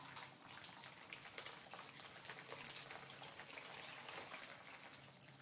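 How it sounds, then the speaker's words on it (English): Water is poured from a cup held about a fist's height above a pan and runs down through a sloped bed of soil, a faint, steady trickling and gushing wash that continues without pause. "Alright, so that water's flowing through there"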